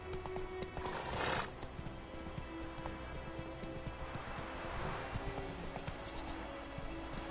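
Roach, the horse from The Witcher, gallops with a steady rhythmic clip-clop of hooves, set against constant game ambience and a brief swell of wind or rustle.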